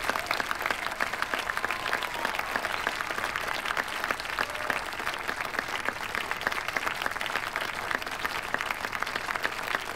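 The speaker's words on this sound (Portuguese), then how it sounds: "Que tal uma salva de palmas para todos os participantes aqui?" Crowd applause for competition participants, a dense, sustained patter of many hands clapping, loud and even throughout with no talk over it.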